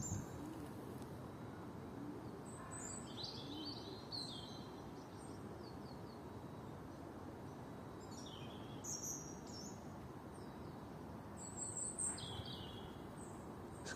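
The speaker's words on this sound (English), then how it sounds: "there was a lovely conversation going on between birds" Outdoor birds coo and chirp in scattered short calls, faint and distant over a low, steady background hiss.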